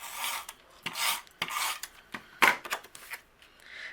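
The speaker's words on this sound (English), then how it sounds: "you want to trim a little bit off the left and the right" A paper trimmer cuts a cardstock panel in several quick rasping strokes, close and fairly loud, with short pauses between them and no voices.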